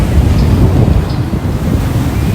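Strong wind buffets the microphone at a Philippine beach resort, a loud continuous low rumble with surf-like roar and no speech.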